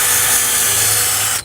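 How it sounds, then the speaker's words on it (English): A power drill bores into wood, whining steadily for a moment, close and loud, then stops abruptly. "And drill down in there just a little bit."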